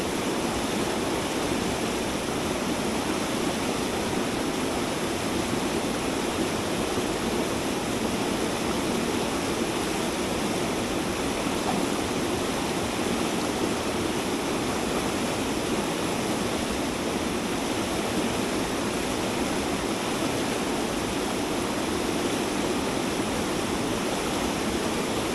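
A strong current on the Seti river near Pokhara roars steadily in winter, a loud, constant wash of rushing water with no breaks, heard alone.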